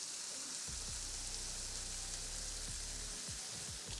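Chopped onions, seasoned with garlic salt and paprika, sizzle and crackle steadily as they fry in hot bacon grease in a pan for bacon jam, a close, continuous hiss with no talk.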